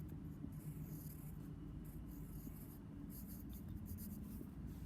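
Pen writing a letter on paper by hand, a quiet steady scratch and rub that runs continuously at close range with no talking.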